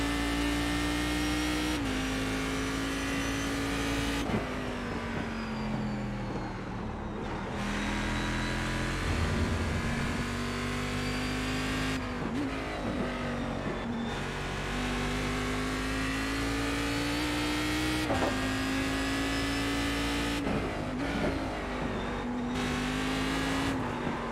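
A race car engine in the iRacing sim roars steadily throughout, its pitch climbing through repeated upshifts as it accelerates hard out of corners, loud and close with no talk over it.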